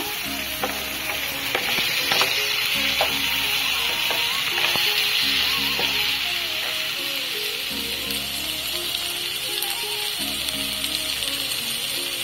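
Onion and tomato being continuously stir-fried in a pan for a stuffed brinjal masala: constant loud close sizzling, with a spatula scraping and clicking against the pan at regular intervals throughout.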